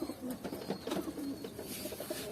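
Pigeons cooing in a loft of racing pigeons, soft repeated low coos overlapping one another at close range, with faint background noise and no clear talking.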